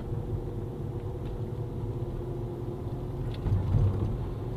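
A VR6 3.2 V6 car engine hums as a low, steady rumble from inside the moving car, quiet and even with a slight swell in revs near the end, no voices.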